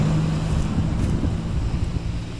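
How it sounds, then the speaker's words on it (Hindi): Cool wind blows steadily through a South Goa village near Benaulim Beach, a continuous low rushing with mic buffeting and no voices. "ठंडी ठंडी हवा चल रही है"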